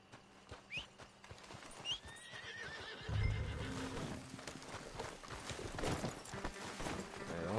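Horses in the video game Red Dead Online: a couple of whinnies early on, then rhythmic clip-clop of hooves building into a steady trot with several neighs over ambient game sound.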